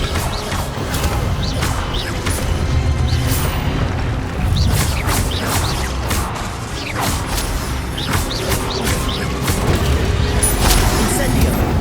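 Expelliarmus spell cast in the Hogwarts Legacy video game amid busy combat, with repeated whooshing bursts, booms and crashing impacts over a dense, loud background of game effects and scattered voices.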